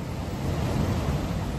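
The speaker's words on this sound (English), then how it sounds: "I'm going to look this way, down this incredible coastline of crashing waves." Ocean waves crash along a rugged coastline in a continuous, loud roar mixed with gusty wind buffeting the microphone, with no voices.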